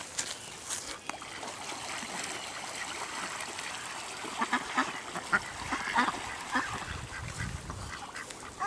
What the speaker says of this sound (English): Let's throw this for the ducks.